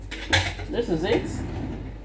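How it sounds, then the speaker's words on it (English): Metal cutlery clinks and rattles as an ice cream spoon is pulled from a utensil holder, a sharp clatter followed by lighter jangling, close by, with faint talk in the background. "quickly grab my ice cream spoon"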